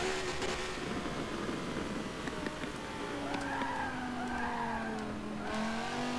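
A race car's front tyres skid and squeal in Forza Motorsport 7 at Spa, a steady engine roar with rising and falling tyre screech over it, moderately loud and continuous.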